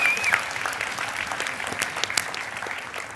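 A church congregation at a Sunday evening Word of His Power 2022 service gives a steady round of hand clapping, moderately loud and continuous, with a brief whistle at the start.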